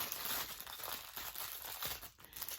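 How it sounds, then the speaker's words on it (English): Paper instruction sheet from a diamond painting kit crinkling close by, a continuous soft crackling rustle with small bursts, quiet and with no voices. "Here, the sheet says, sorry for the crinkling."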